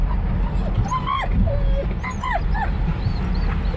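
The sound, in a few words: dogs barking and whimpering in a car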